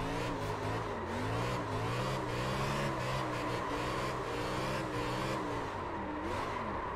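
A race car engine revs hard and steadily through a clutch-kick drift in the iRacing simulator. The pitch rises and falls in waves as the throttle is worked, with faint tire noise. It is continuous and loud, with no talking.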